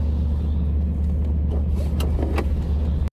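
Cars passing on a street among civilian apartment buildings, a steady close rumble of traffic with a couple of brief higher swishes from vehicles going by.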